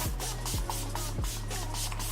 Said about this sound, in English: I'm gonna set my face again with the Urban Decay All Nighter Setting Spray